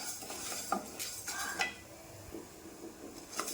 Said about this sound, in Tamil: அதனால் நான் வெறுமனை வறுக்கிறேன்